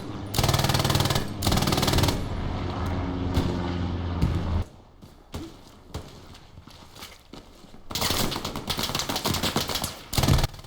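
Light machine gun fire in the World War II shooter Hell Let Loose, loud bursts of rapid shots opening and closing the stretch, with quieter distant battle noise and scattered reports between them.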